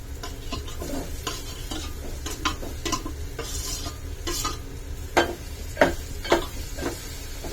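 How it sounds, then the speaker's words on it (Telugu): Potato pieces stirred and fried in a pan for an aloo egg curry, with steady scraping stirs and a few sharper clinks of the spoon against the pan over a low sizzle, close and alone with no talk. "బంగాళదుంపలు కూడా వేసి ఇలా కలుపుకున్నాం."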